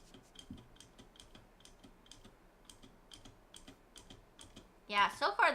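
Rapid, light clicks of a computer keyboard being typed on, steady and fairly quiet, with a voice starting up at the end.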